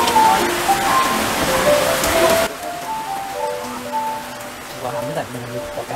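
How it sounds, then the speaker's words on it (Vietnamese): Heavy rain pours steadily outside a café, a loud broadband wash that drops noticeably quieter partway through, with voices and clinking café sounds mixed in underneath. "Đi vào một cái buổi trời mưa như ngày hôm nay thì có vẻ là nó hơi ồn"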